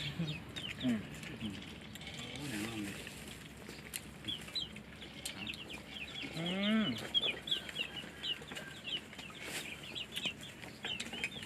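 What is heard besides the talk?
chickens clucking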